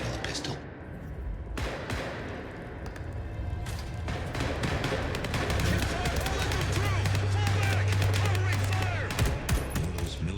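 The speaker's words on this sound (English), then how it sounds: "Gunfire?" Gunfire in the video game Vampire The Masquerade Bloodlines 2, rapid bursts of shots and thuds crackling under game sounds, with a low droning tone swelling in the middle.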